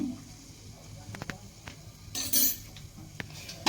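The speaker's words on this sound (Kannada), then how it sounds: "ಈಗ ನಾನು ಮೆಣಸನ್ನು ಸಮ ಈ ಥರ ಜಜ್ಜಿ ಹಾಕ್ತಾ ಇದ್ದೀನಿ." Black peppercorns are crushed by hand for a home remedy against cold and cough, giving scattered sharp knocks and scraping clinks of a pestle against a metal vessel, close and fairly soft, with a few louder grinding bursts.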